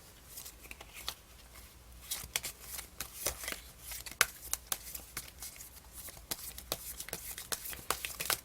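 Tarot cards being shuffled by hand, a rapid run of crisp riffling flicks and soft slaps close by, fairly quiet, with no talking.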